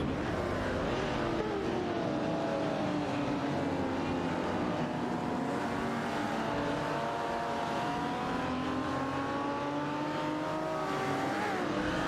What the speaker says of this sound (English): Let's enjoy the excitement of these AI race cars together.